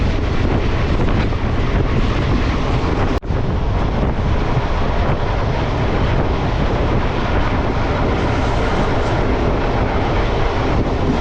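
Kacheguda–Medak passenger train of Indian Railways rattling hard along single-line track, a loud continuous rumble mixed with wind buffeting, with one sharp knock partway through.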